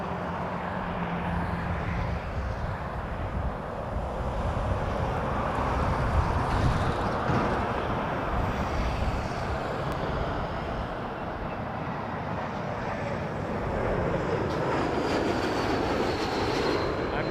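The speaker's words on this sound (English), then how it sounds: "Air Canada 506 from Chicago O'Hare on an A220" An Air Canada Airbus A220 arriving at Toronto Pearson: a steady, broad jet roar with low rumble and wind buffeting, sustained and moderately distant throughout.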